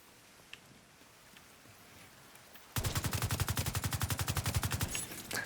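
A rapid, loud burst of automatic gunfire in a video game cuts in abruptly after quiet ambience and then holds a fast, even rhythm of close shots until the end.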